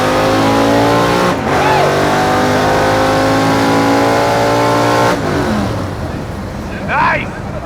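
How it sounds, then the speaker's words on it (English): A Hemi-powered drag car launches at a drag strip, its engine roaring loud and close as it revs hard and bangs through the gears, then fading as it pulls away, with crowd or announcer voices faintly underneath. "here he goes"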